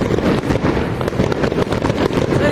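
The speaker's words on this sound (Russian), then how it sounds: "Украинские салюты." A city fireworks display in Yuzhnoukrainsk, heard as a dense, continuous crackle of rapid bursts and pops at steady loudness, with wind noise on the microphone.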